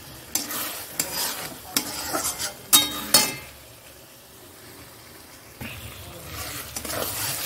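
Tomatoes frying in a pan while a utensil stirs them, with scraping knocks and clinks over a soft background sizzle and quiet stretches between the strokes.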